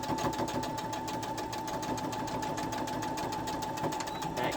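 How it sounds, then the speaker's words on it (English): A sewing machine back stitches the bottom corners of a fabric bag, a steady rapid mechanical rattle of needle strokes running continuously, close and moderately quiet, with no voices. "Back stitching so that I make those corners nice and crisp on the bottom of the bag"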